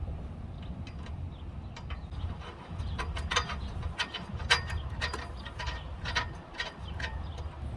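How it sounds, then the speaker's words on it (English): A hex key turns a light bar mounting bolt on a 2021 Ford Bronco, making faint, close metallic ticks and small clicks over a low steady background hum. "then we'll use the hex key in order to tighten it"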